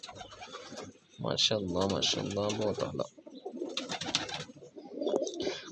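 Champion pigeons coo nearby in soft, throaty, repeated bursts. Someone speaks between and over the cooing.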